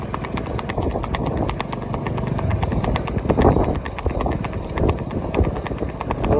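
A mare's hooves clip-clop in a steady, quick rhythm at close range, driven in the rewal gait. The beats are loud and continuous, with a low background rumble throughout.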